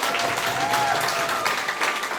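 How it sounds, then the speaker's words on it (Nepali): Wedding guests applaud steadily throughout, a dense, sustained wash of clapping at a wedding ceremony with faint voices mixed in. "ताली बजाइदिनुहोस् न।"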